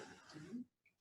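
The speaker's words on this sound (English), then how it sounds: "I'm going to start coughing here." Short cough burst from a person, a single rough exhalation lasting about half a second, fairly close and moderately loud, then a brief quiet gap with faint noise.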